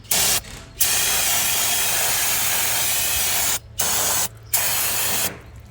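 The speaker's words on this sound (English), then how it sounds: "Spray that down with brake cleaner like so." Brake cleaner sprays in long, loud hissing blasts onto the rear drum brake parts of a 1992 Nissan Sentra, with several brief pauses between bursts, close to the listener and with no talking.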